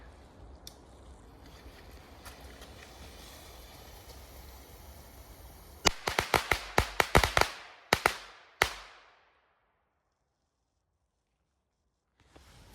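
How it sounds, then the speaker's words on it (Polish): A low crackling fizz runs for several seconds, then a rapid burst of sharp, loud bangs and pops, followed by silence. "na koniec jeszcze odpalamy słoneczko"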